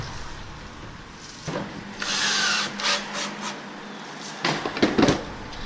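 A driver sends a 3/4- to 1-inch screw through a cap into plywood, a close mechanical whir that rises and falls in short bursts with clicks and handling noise in between.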